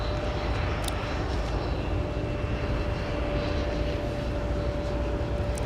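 A Delta Boeing 757-300 airliner, formerly of the Northwest Airlines fleet, roaring at Minneapolis-Saint Paul airport in winter, a continuous loud engine rumble with a steady whine on top, no talk.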